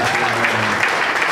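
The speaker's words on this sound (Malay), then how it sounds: "Bagi tak tepukan." Brief, loud burst of audience applause at a launch event for a new performance oil product, dense clapping with a voice briefly over it.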